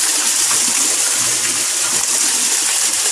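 Water pours steadily back into a homemade backyard garden pond filter drum, a loud, continuous close-up splashing gush with no break and no voices.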